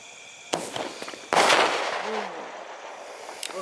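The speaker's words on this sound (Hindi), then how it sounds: "चलिए सबसे पहले शुरुआत करते हैं इस 8 रुपए के स्काई शॉट से, देखते हैं कैसे चलता है।" An 8-rupee Diwali sky shot firework: a sharp launch pop, then a louder bang as it bursts, with crackling and a fading hiss afterward.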